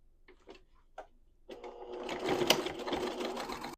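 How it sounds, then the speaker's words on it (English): Sewing machine stitching a tote bag seam at a quarter-inch allowance, a few soft taps and then a steady rising whir of close, quiet stitching. "You're going to sew that all the way around at 1/4 inch seam allowance."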